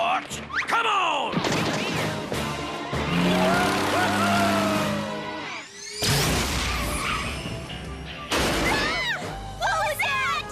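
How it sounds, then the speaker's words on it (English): Cartoon cars ram and crash on a bridge in a Johnny Test episode: engines rev and whine, tires screech, and several loud metallic impacts land amid frantic excited voices and music. "They're ramming us off the bridge."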